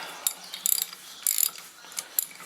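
Ratchet tightening bolts on the rear strut of a 1995-2006 Dodge Neon, a close series of sharp clicking pawl bursts in short uneven strokes, with no speech over it.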